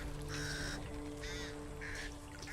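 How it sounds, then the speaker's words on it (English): Crows cawing in the zombie shooter Back 4 Blood: several harsh caws in separate bursts over about two seconds, moderately near, with a steady low hum underneath and no speech. "Birds can alert hordes."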